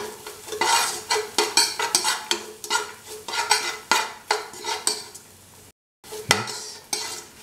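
Okra being stirred with turmeric and salt in a pan, a rhythmic run of loud scraping strokes of a spoon against metal over a faint sizzle, pausing briefly before resuming, close with no talk.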